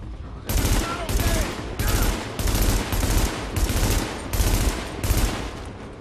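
Enemy gunfire in The Division video game crackles in loud, evenly spaced bursts, about seven sustained volleys of rapid shots with brief gaps between them, close and dominant throughout.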